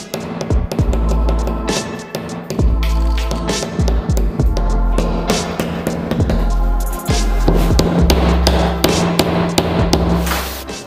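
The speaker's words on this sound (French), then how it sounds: "je vais mettre un petit coup de marteau pour les faire rentrer un petit peu en profondeur" Hammer blows tap molly anchors deeper into a bathroom wall during renovation, a long run of sharp, close knocks in irregular clusters with brief pauses between them.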